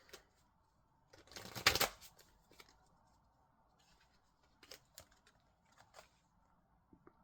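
Oracle cards from the Guides of the Hidden Realms deck being shuffled, one brief riffling burst followed by scattered soft taps and card flicks, close and quiet with no talking.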